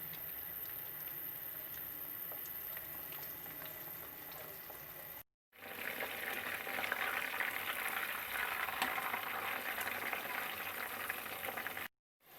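Chicken chapli patties fry in oil with a continuous soft sizzle and crackle at moderate distance. The sizzle grows noticeably louder and fuller partway through, and it stops briefly twice with short gaps of silence.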